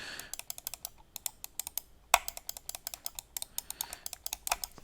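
Rapid, irregular plastic clicks from a Logitech MX Master 3S mouse's buttons in quick bursts, close and crisp, with a few louder snaps among them and no voices.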